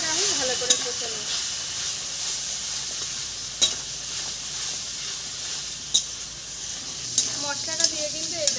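A spice paste with turmeric and salt fries in oil, sizzling steadily up close while a spoon stirs and scrapes the pan at intervals, with no talking.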